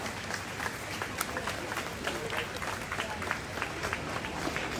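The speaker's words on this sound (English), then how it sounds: "Anyone that seems to walk down the Mall gets an applause today" A crowd applauds on the Mall outside Buckingham Palace, cheering police officers as people gather to see the Queen transported to Westminster. Steady scattered clapping comes from a broad, somewhat distant crowd, with voices mixed in throughout.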